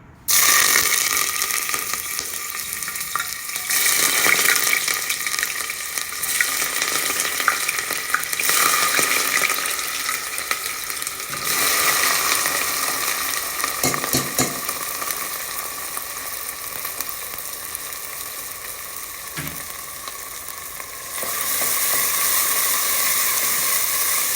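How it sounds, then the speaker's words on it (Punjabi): Onions going into hot oil in a pan for a carrot and pea curry, giving a steady, loud broadband sizzle and crackle that swells and eases across the whole stretch, with no talking. "ਹੁਣ ਆਪਾਂ ਪਿਆਜ਼ ਪਾਉਣ ਲੱਗੇ ਆ ਥੋੜੇ ਥੋੜੇ ਕਰਕੇ ਪਾਵਾਂਗੇ ਵੀ ਹੱਥਾਂ ਤੇ ਛਿੱਟੇ ਨਾ ਪੈ ਜਾਣ"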